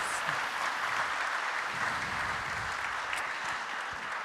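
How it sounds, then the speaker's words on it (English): Steady audience applause fills the room after a panel discussion at a research conference opening session, a dense, continuous wash of many hands clapping with a faint murmur underneath. "Give them a round of applause."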